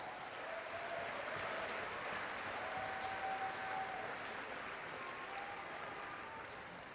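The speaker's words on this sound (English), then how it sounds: "can we give a big round of applause for all grade level declamation winners?" An audience at a school declamation exhibition applauds the grade-level winners, a steady, dense wash of clapping that holds evenly throughout and fades slightly at the end.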